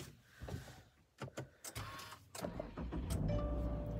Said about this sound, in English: And then I'm gonna start the car.